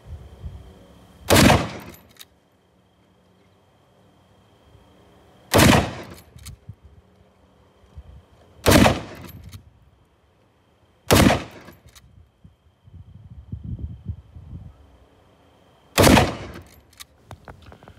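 Five loud, sharp rifle shots ring out outdoors, several seconds apart, each with a brief echoing tail, from a 1976 Marlin 336 carbine in .30-30 fired at water-filled jugs.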